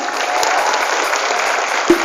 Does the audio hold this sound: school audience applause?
yes